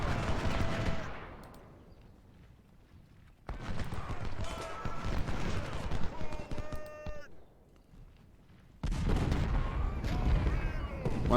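24-pounder cannons and musket fire in the Ultimate General: Civil War battle game, dense bursts of crackling gunfire and booming shots in three loud waves separated by quieter gaps.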